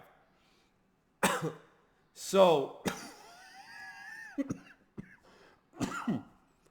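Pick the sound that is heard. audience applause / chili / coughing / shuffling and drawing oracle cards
coughing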